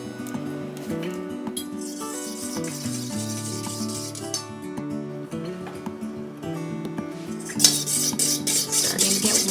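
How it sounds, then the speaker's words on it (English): Cream warming in a pot is being stirred, with a spoon clinking and scraping against the pot at close range. Background music plays underneath. "we want to start stirring here as soon as it gets warm enough"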